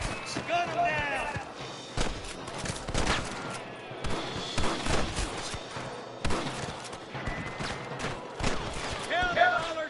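Shootout gunfire in the video game Red Dead Redemption: repeated sharp shots and bursts crack throughout, irregular and close, mixed with shouting voices and game sounds.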